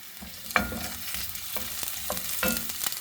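Garlic and onion sautéing in a pan, a steady close sizzle broken by several quick spatula scrapes and stirs at uneven intervals.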